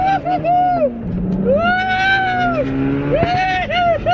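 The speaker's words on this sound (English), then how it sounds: "All right, so first gear pull from a dig." A 480 hp turbocharged all-wheel-drive Honda car accelerates hard from a standstill, heard from inside: a loud, close engine note climbs steeply in pitch, drops sharply at each shift, then climbs again.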